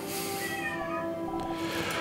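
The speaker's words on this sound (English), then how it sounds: "I don't know if you can hear the cat, but she's outside the door screaming right now." A cat meows outside a door, one long drawn-out wailing cry that rises and falls, heard at moderate level behind steady background noise.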